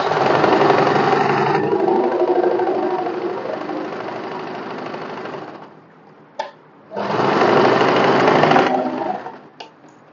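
Sewing machine double stitching a cotton one-piece, a close, fast mechanical whir that runs for about six seconds, stops with a brief tap, then starts again for another burst before halting.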